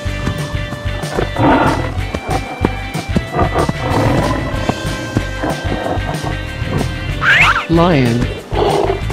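A tiger gives low, rough roars and growls in a few broad bursts, heavy and close, mixed in with background music and other effects.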